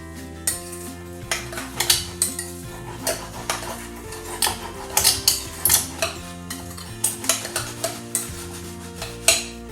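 Chicken thighs and wings being mixed in a jerk marinade, a steady run of wet stirring clatter and utensil knocks against a bowl, close and fairly loud, over continuous background music.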